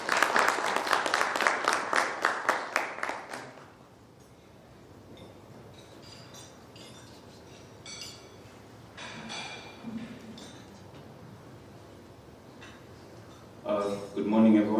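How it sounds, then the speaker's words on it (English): An audience applauds as Alfred Ongere, founder and program lead, walks on stage at a discussion on AI in Kenya: dense, loud clapping for about four seconds, then fading into quieter room murmur with a brief burst near the end. "A round of applause for him as he comes on stage"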